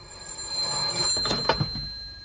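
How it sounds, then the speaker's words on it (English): Telephone bell ringing in a Dad's Army radio comedy episode, a few short rattling bursts in the middle of the clip over a faint steady background hum. "Well, obviously it's somebody ringing up, sir"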